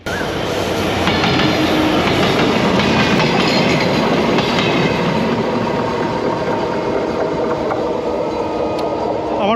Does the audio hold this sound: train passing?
yes